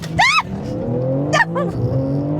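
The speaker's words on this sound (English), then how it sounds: "hard down on the left pedal, which is the brake, and then flat foot on the right, preparing launch control, and launch control active" A 2025 BMW M3 leaves on a launch-control start, its engine note rising in stepped pitch sweeps through hard acceleration, loud and close from inside the cabin, with brief voices over it.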